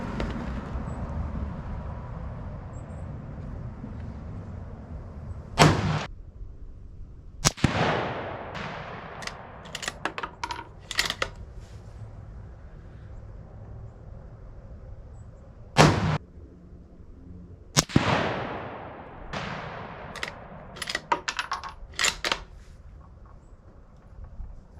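Savage Axis II bolt-action rifle firing .223 rounds at a range: sharp, loud shots spaced several seconds apart, each with a long echoing tail, over steady outdoor background noise and small handling clicks between shots.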